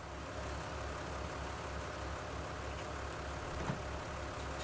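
A tractor engine idles in Farming Simulator 19, a low, steady rumble with a regular chugging pulse that stays level, joined near the end by one brief brighter knock.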